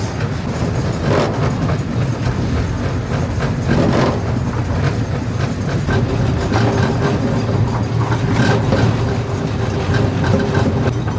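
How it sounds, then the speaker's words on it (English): The Melody Ranch Special miniature train at Travel Town in Griffith Park, Los Angeles, rolls along with a continuous low rumble and a rattling clickety-clack, steady and close throughout with no talk. "Just a nice relaxing train ride, the wind in my face."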